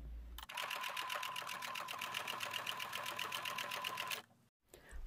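A sewing machine topstitching the seam of a brimless beret runs in a fast, steady mechanical chatter for about four seconds, close and fairly quiet. It then stops abruptly, and a soft handling noise follows.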